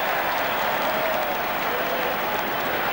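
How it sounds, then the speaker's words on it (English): A large football crowd roars steadily inside the stadium at a 1998 Port Adelaide Power versus Sydney Swans match, a dense, unbroken wall of cheering noise. "The crowd's roaring."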